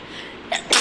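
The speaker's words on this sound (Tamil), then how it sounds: "சாரி, தும்மல் வருது" A single sharp human sneeze, with a brief intake just before the burst, close and loud in a quiet room.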